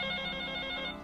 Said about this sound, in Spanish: Ya nos están llamando, ahorita no te preocupes, habrá quien conteste.